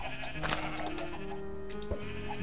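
Sheep in the Minecraft video game bleat several times in quick succession, close and clear, over a faint game background.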